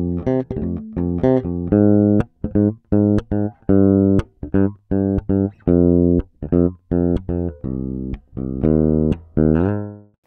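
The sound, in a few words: Cort bass, rear pickup with boosted treble, thumpy tone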